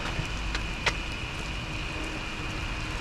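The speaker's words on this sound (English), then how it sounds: "Rainy sidewalk." Rain falls on a wet sidewalk during a run, a steady faint hiss with a few louder drops and splashes near the start.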